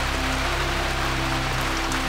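Steady rain falling outdoors, a dense even hiss of drops on surfaces with a low continuous hum beneath, constant and fairly loud throughout with no voices.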